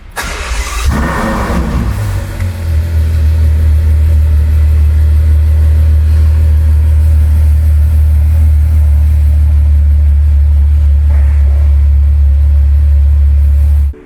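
A seven-year-old Ferrari FF engine cranks and fires up with a sharp burst, then settles into a deep, steady, rumbling idle that continues loudly until it cuts off.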